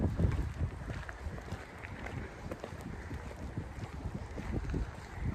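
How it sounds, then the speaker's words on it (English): Strong gusting wind buffets the microphone on a dirt hiking trail in Tawawa Park, a rough, continuous roar with surging gusts close by and no talking. "And that wind is getting killer."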